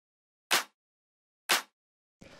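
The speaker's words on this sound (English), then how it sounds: "the last thing we've got here is the clap" Two-layered clap sample for a futuristic chill house track, two isolated bright crisp hits about a second apart followed by the start of a softer third hit, each alone and fairly quiet.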